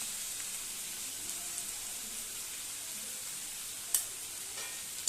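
Salt and a little turmeric sizzle steadily in a hot wok as ingredients fry for chowmein, a soft constant hiss with a couple of brief clicks near the end.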